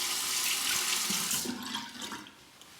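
Tap water runs steadily into a sink as a razor is rinsed under the stream, a bright splashing wash that thins out near the end.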